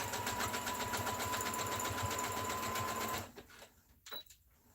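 A sewing machine stitches an elastic casing, its fast, even motor whir and needle chatter running loud and close for about three seconds before stopping, followed by faint handling noises.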